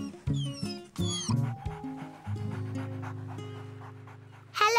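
A dog pants rapidly and steadily on a hot beach, close by, the breathing heard alone after a few short whimpering yips.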